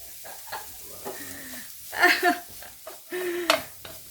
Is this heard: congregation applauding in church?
no